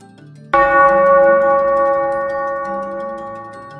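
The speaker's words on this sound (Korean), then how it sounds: "캄캄한 어둠 속 어디선가 댕댕 종소리가 울렸습니다" A single bell strikes loudly and rings out, its bright metallic tone sustaining and slowly fading over a few seconds.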